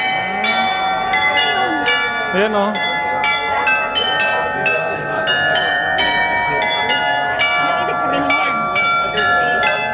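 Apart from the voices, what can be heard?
church bell ringing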